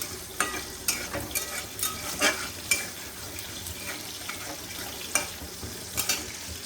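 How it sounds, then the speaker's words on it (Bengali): Turmeric-coated chillies fry in a pan with a steady, close sizzle, broken by sharp, irregular scrapes and clicks as they are stirred, with no talking. "এর মধ্যে লঙ্কাগুলো একটু ভাজা ভাজা হতেই"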